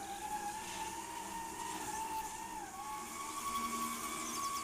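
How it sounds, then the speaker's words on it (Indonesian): A stand mixer kneads donut dough with a steady, continuous motor whine and hum that wavers slightly in pitch, moderately close and alone without talk. "Aku akan menguleni menggunakan mixer."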